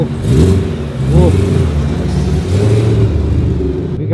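Cars leaving a wide-body M3 burnout rollers video shoot, engines revving loud and close with a steady rumbling drone and rising throttle blips, a voice briefly audible over the noise.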